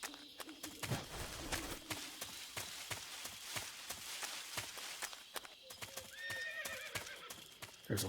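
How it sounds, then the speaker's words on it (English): Horse in Metal Gear Solid 3 game audio: steady clip-clop of hooves throughout, with a near, loud whinny early on and another neigh in the closing seconds. "There's a horse."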